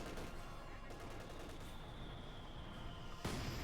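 Light machine gun fire in a Company of Heroes 2 battle, a steady crackle of distant automatic bursts over rumbling battlefield noise, ending in a sharper, louder report.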